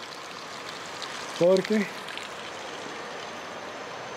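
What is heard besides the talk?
flowing water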